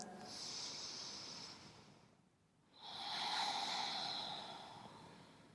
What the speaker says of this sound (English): Last deep breath.